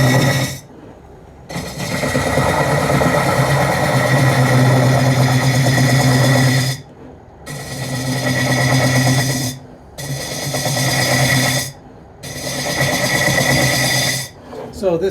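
A motor-driven Japanese-style wood lathe turns a cup, running in steady broadband bursts of a few seconds each, separated by brief stops, loud and close with a low hum beneath.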